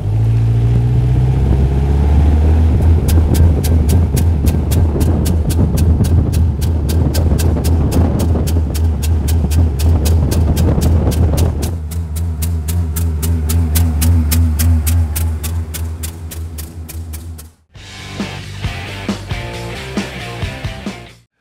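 A car engine with a restricted exhaust, no check engine light lit, runs loud and strained and is slow to pick up, giving a sustained rough drone and rapid pulsing roar that shifts character midway before a brief drop and a revving tail.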